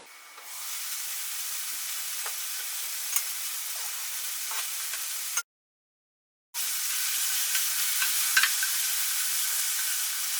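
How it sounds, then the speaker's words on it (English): Tomatoes go into an eggplant and vegetable stir-fry, and a bright, steady sizzle and hiss fills the pan with faint stirring clicks. A sudden full second of silence breaks the sound partway before the frying resumes, loud and close. "I am going to add the tomatoes"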